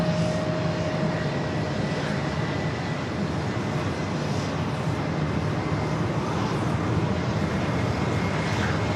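An Airbus A321 jet airliner bound for Fort Lauderdale moves at JFK airport, heard as a continuous moderate jet engine rumble and hiss, steady in level and fairly distant, with a faint whine on top and no talking.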